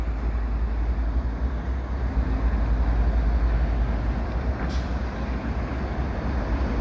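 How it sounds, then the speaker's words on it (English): A train crossing Lasalle Boulevard in Montreal near Pointe St Charles rumbles past as a steady, heavy low roar, with a brief hiss partway through and no voices. "We got a train here crossing Lasalle Boulevard"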